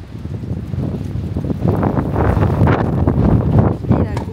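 Strong wind, gusting around 100 km/h, buffets the camera on a tennis court during a match point, a rough, loud rumbling roar that grows stronger partway through.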